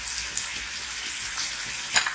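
Pork renders in a hot pan for a Tagalog binagoongan dish, a steady close sizzle and crackle of frying fat with a brief louder spatter near the end.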